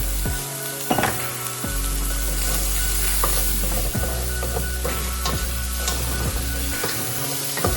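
Salted and peppered mushrooms frying in a pan for chicken Marsala, with a loud, dense, continuous sizzle close by, broken by several clattering knocks and scrapes of a utensil stirring them.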